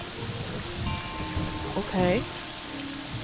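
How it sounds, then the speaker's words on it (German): Rain falling in the video game Yonder: The Cloud Catcher Chronicles, a steady hissing downpour running throughout beneath a few tonal game sound effects, with someone speaking briefly. "Oh, es regnet."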